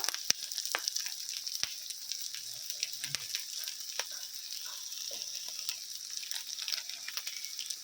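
Ginger-garlic paste frying in a pan while turmeric powder goes in, a steady high crackling sizzle throughout with small pops and occasional light scrapes, fairly quiet and close.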